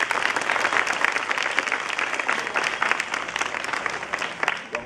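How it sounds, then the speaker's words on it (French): A crowd of people at a school event for a minister's visit applauds continuously in a dense, steady roar of many clapping hands for about five seconds, with no pause. "veuillez les applaudir s'il vous plaît"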